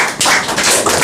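Students in a spoken English class give a short burst of applause, a second of dense, close, loud claps with no talk.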